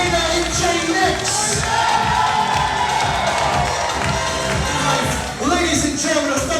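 Wedding guests at Oceanbleu on Long Island cheer and shout loudly as the wedding party enters, a sustained roar of voices and whoops, with music thumping underneath.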